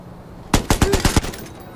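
Rapid burst of about six gunshots in the Watch Dogs video game, sharp evenly spaced cracks over roughly half a second, loud and close with no talking.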